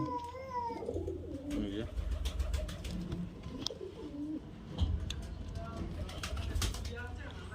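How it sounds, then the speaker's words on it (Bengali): High flyer pigeons of the Murshidabadi Giribaz breed coo in repeated soft, throaty calls, with some nearby chirps and clatter and voices in the background. "প্রত্যেকটা পায়রা হাই ফ্লায়ার পায়রা"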